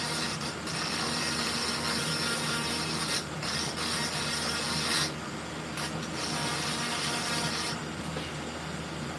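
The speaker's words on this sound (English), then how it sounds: "So what we do is take the Dremel and just round it off." Dremel rotary tool rounding off the edge of a piece in a saw workshop, a steady high whirring grind with a rasping, sanding texture, loud and continuous with brief dips as the bit lifts off.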